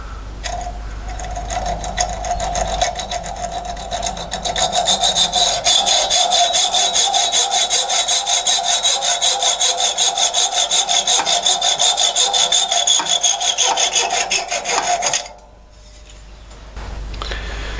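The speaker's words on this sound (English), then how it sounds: "I'll use a Dremel to actually cut it to the right length. It's got a cutting disc on it." A Dremel rotary tool with a cutting disc grinds through a metal drive pin. It makes a loud, continuous high-pitched whine with a rasping edge for about fifteen seconds, then stops abruptly, and no one speaks.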